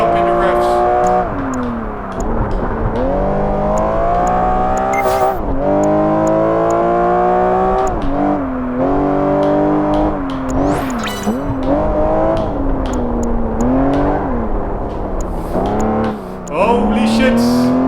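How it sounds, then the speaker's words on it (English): In Project Gotham Racing 4, a race car engine revs hard and climbs repeatedly through the gears from the start, a loud, close whine rising and dropping with each shift, while someone talks over it. "This car likes to rev, so you really want to start high up in the revs."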